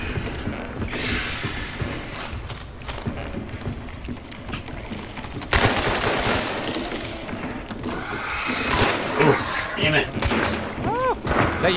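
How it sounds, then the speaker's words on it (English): Gunfire in an online shooter game rings out in rapid bursts and scattered sharp cracks over a noisy game mix, with players talking throughout. "Is that you shooting at me?"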